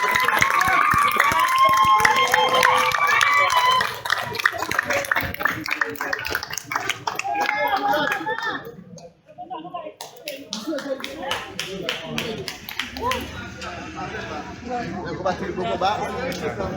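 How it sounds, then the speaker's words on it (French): Clapping from a street crowd greeting a government minister, rapid broadband claps mixed with loud chatter and shouting voices throughout, briefly dipping midway before resuming. "Il y a des gens qui viennent applaudir le ministre là."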